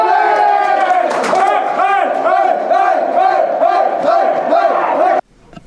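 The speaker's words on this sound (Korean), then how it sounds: "2사 2-3루 득점권 위기에 몰렸던 투수가 중견수 플라이로 이닝을 끝내자 환호성이 터집니다" Spectators at a high school baseball game break into loud, rhythmic cheering and shouting as an inning ends on a fly out, close and sustained for about five seconds before stopping abruptly.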